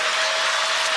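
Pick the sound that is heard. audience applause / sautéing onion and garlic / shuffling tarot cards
audience applause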